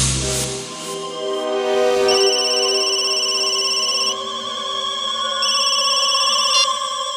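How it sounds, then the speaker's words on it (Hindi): A mobile phone rings with a loud electronic ringtone, a repeating pattern of bright sustained tones that carries on steadily with no talking over it. "उसके मोबाइल पर एक कॉल आया था"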